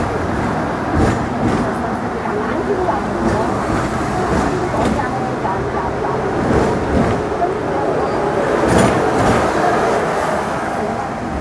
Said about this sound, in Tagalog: nakasakay kami sa yung maliit na tren na mabagal.